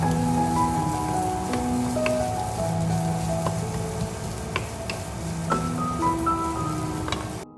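Capsicum, tomato, onion and garlic frying lightly in a pan, a steady dense sizzle and crackle running throughout with scattered small pops, close and fairly loud, no talking.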